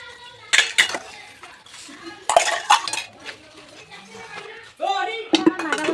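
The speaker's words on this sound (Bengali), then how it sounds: "তো চায়ের বাসনগুলো মেজে নিই" Tea dishes and cooking pots clatter and clink in irregular bursts during washing, with light knocks and scraping between louder clusters; a voice is faintly present in the background.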